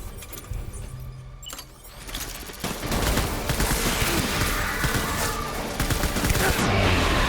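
Gunfire in the Death Stranding video game, a dense, loud burst of rapid shots and impacts that builds after a brief quieter opening and continues steadily to the end.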